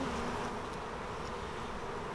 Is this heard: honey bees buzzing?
yes